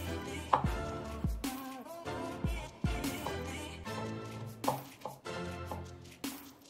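A knife chops peeled tomatoes on a cutting board, a series of soft, irregular thuds and wet squishes, close and fairly quiet.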